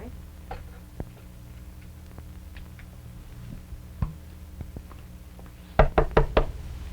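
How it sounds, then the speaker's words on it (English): A door is knocked on in a 1951 live television puppet show. Faint scattered taps come first, then a quick, loud burst of four raps near the end, with no talk over them. "Just knock right on the door."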